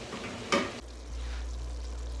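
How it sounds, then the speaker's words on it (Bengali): Chopped tomatoes dropped into a pan with partly cooked chicken for chicken biryani give one brief loud hissing burst, then a faint ongoing sizzle over a low steady hum. "আমরা এখন টমাটো দিয়ে দেবো টমাটো কুচি দিয়ে দিলাম"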